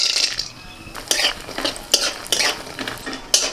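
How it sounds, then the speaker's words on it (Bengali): Bori lentil dumplings fry in hot oil with a soft, steady sizzle, broken by several sharp clinks and scrapes of a spatula stirring against the pan at irregular intervals. "তার আগে আমি কিছু বড়ি ভেজে নেব।"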